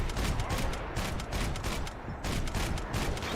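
Sustained rapid gunfire in the shooter game Max Payne 3, dense repeated shots in bursts at steady loudness, with faint battle noise and no clear speech.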